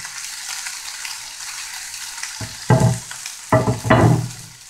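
Pork-leg linguiça sausage with chopped onion browning in a pan, a soft low sizzle punctuated by a few louder bursts of stirring and scraping near the end.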